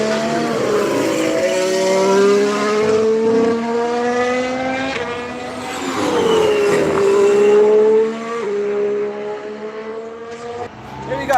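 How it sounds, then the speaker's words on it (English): A McLaren Formula 1 car screams along the track, its high-revving engine rising and falling through gear changes as it passes close and loud, with a voice talking over it. "McLaren's back out on the track."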